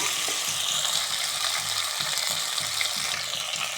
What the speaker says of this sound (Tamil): இது ஒரு ரெண்டு நிமிஷம் நல்லா இதில் எண்ணெயிலே பரட்டி பரட்டி விடுங்க நல்லா எண்ணெயில் கொஞ்சம் வேகட்டும்